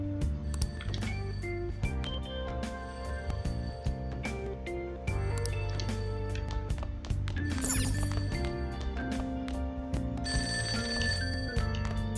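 A telephone rings inside the video game Persona 5 Royal, its repeated bell tones sitting over a steady backdrop of game music with no talking.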